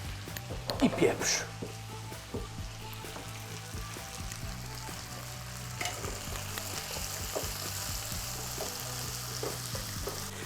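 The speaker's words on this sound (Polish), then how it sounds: "I tak będę smażył przez kilka minut, żeby się zrumieniły od spodu." Potatoes sizzle and fry in a pan beside a ribeye steak, a steady crackle with an early burst of stirring clatter, as someone speaks over the cooking.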